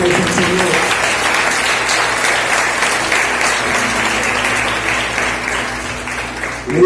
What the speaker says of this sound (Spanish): yo le daré un fuerte aplauso al Señor